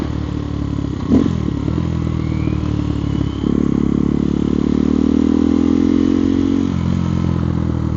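A KTM Duke 390 Gen 3 motorcycle with a quick shifter is being ridden. Its engine drones steadily under wind noise, with a shift and a rise in revs partway through.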